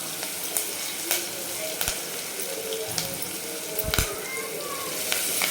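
Green chillies and curry leaves sizzling in hot oil for a Maharashtrian kadhi, a steady crackling fry with sharp spits and pops and a few stirring clinks, close and fairly loud while someone talks over it.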